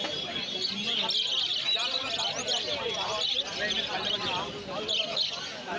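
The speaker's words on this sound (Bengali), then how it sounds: "ভালো কোয়ালিটির লুটিনো লাভবাট আছে" Lutino lovebirds chirp and tweet in a dense, constant chatter at a busy bird market, with someone talking over them throughout.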